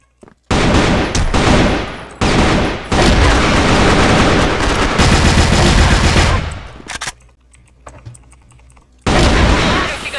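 Dense, rapid automatic AK-47 gunfire bursts in a video game rattle loudly for several seconds, broken by brief pauses, with a final burst after a quieter stretch.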